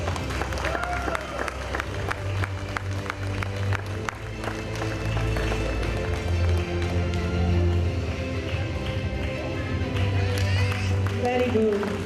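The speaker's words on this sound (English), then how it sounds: "Can we clap for Advait?" Audience clapping for a nursery child performer at a kids' school annual day, a crowd's applause mixed with loud music, voices and general hall noise throughout.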